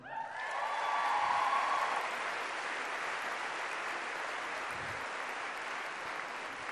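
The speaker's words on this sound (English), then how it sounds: "Can I get a quick clap for them, please?" An audience at a university graduation ceremony claps for two heads of year, a dense, steady wash of applause that swells over the first two seconds and then carries on evenly at a fairly loud level from a large crowd.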